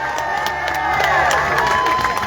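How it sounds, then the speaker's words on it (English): Crowd at an outdoor No Kings rally in Atlantic City applauding and cheering for youth members, loud clapping mixed with whoops and raised voices, fairly close and sustained. "can we give another round of applause for those youth members?"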